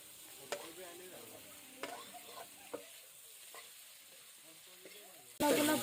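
Pork pieces frying dry in a pan while being stirred, soft sizzling with a few distinct spatula knocks, then a sudden loud burst of hissing near the end.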